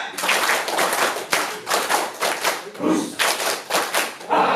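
Group performs a rhythmic clapping cheer in a meditation and breathing workshop, bursts of claps in counted patterns with short pauses, loud and close, mixed with shouted voices.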